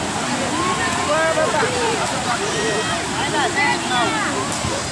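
Sea surf roars steadily along the shore at high tide, at a crowded temple fair at Katpar, while many voices chatter and call out nearby.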